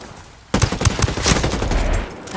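Rapid automatic gunfire during a Ghost Recon Ghost War match, starting abruptly after a brief quiet moment and continuing as dense, close, loud bursts of shots until the end.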